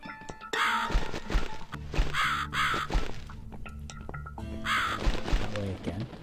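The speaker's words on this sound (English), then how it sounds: "The crow flies that way." Crow cawing in The Cat Lady video game: harsh, repeated caws in three bursts over a dense bed of ambient game sound with thumps and knocks, fairly loud and close, with no talking.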